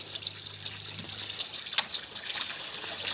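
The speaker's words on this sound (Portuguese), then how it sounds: "É só colocar o balde debaixo da bica." Spring water runs from a spout into a bucket outdoors, a continuous light trickle and splash with a few brighter spatters, close by.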